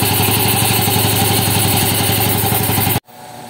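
A motorcycle engine powered by a DIY LiFePO4 battery idles loudly and steadily with a rapid, even pulse, then cuts off abruptly near the end, leaving quiet background hiss.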